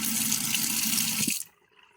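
Water runs from the tap of a small, short household sink in a steady close hiss and splash, then shuts off abruptly, leaving a quiet room.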